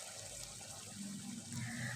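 Water pours steadily into a cooking pot of mutton and potatoes for an aloo gosht shorba curry, a continuous close splashing gush that swells slightly toward the end.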